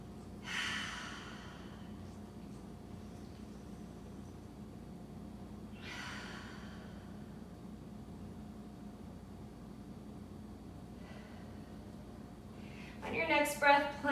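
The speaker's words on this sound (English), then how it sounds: "Take a few breaths here." Slow, quiet breaths held during a yoga pose in a post-run session, with two soft airy exhales spaced several seconds apart over low steady room hum, then a brief bright rattling clatter near the end.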